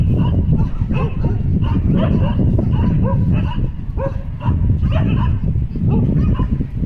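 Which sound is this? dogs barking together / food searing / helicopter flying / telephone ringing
dogs barking together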